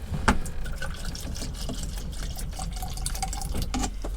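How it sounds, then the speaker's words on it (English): Water pours into a dish for a stuffed aubergine dish, a close splashing trickle with small clinks and drips, steady over a few seconds. "I'll show you how much water we're going to put in this."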